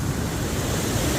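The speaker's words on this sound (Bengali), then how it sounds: "বকুলিয়া ব্রিজে দেখো এই যে গেট ছাড়ছে, পানি ওভারফ্লো হইতে আছে" Floodwater rushes through an opened sluice gate at a bridge after days of rain in Assam, a dense, steady roar of churning water filling the whole moment.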